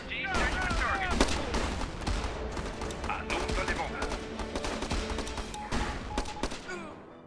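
Machine gun nest firing in the video game Battle Islands Commanders, with dense, continuous bursts of gunfire and battle noise running loudly through the whole stretch.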